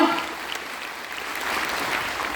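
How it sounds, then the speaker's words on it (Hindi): An audience at a Modicare director recognition ceremony claps loudly, a dense burst of applause from many hands that carries on evenly across the short stretch. "जोरदार ताली बजा दीजिए।"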